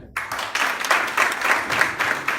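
A group of cricket lovers from Virginia on a Washington DC cricket coaching tour breaks into applause, a close burst of several people clapping in uneven pulses that starts abruptly and carries on to the end.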